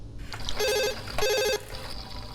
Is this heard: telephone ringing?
yes